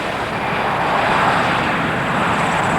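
A US Air airliner, back in service after a 1989 wing replacement, flies overhead with a loud, steady broadband engine roar that holds for the whole stretch with no talking.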